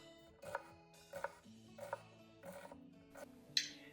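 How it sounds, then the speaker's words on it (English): A knife chopping through an onion on a board while making a mirepoix for vegetable soup, five or six crisp, evenly spaced cuts, close and fairly quiet, with no talking. "One of the best ways to cut an onion is to keep the root intact"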